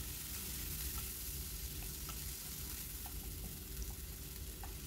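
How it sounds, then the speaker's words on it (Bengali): Tomato paste frying with whole spices in hot oil, a steady close sizzle with faint stirring scrapes running throughout, no talking. "এবার এটাকে একটু ভালো করে কষিয়ে নেব।"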